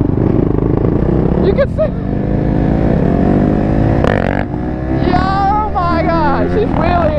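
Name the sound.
Raptor quad ATV engine revving while ridden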